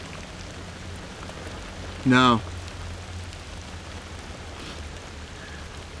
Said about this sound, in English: You're fighting against the rain.